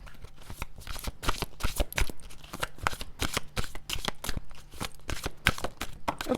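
Tarot cards shuffled continuously by hand, a rapid run of crisp riffling slaps and flutters close by, with one card flicking loose partway through; no talking.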